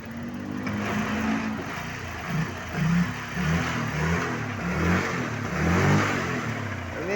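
A Honda Vario 125 scooter engine idles steadily and is blipped with the throttle in repeated revs, a close, continuous mid-pitched motor sound with no voices.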